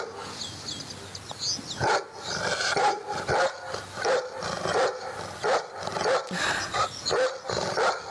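A dog barks repeatedly in an uneven rhythm, slightly muffled and echoing, played through a speaker during a conference talk about rabies, with steady background noise.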